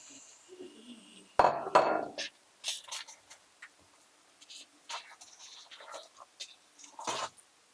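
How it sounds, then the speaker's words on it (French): Utensils clink and scrape in a pot while Cameroonian ndolé with shrimp is stirred, scattered close clanks and rattles with quiet gaps between them. "On continue à bien mélanger notre ndolé."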